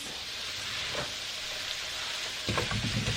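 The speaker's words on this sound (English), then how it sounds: "Now I'm going to add my mushrooms." Mushrooms drop into a pan with cooked bacon for halushki, a steady hissing sizzle that rises and grows louder as they hit the hot fat near the end.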